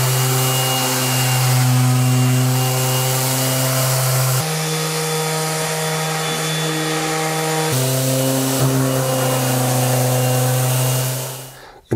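Loud electric sander droning steadily close up on a windowsill, a strong buzzing motor tone that shifts pitch a few times before cutting off at the end.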